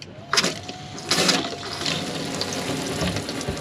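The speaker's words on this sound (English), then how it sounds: "we've got cold water only, so it's pumping now out of there with that submersible pump up out of the tap" Cold water gushes from the tap of a VW camper van, driven by a submersible pump. A couple of short splashy bursts give way to a steady, moderately loud flow close by.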